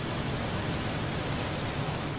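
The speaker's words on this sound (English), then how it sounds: "With rain pouring down into the already swollen Fox River" Heavy rain pours down steadily in a flooded area beside the swollen Fox River in Algonquin, a dense, continuous hiss with no pauses and no voices.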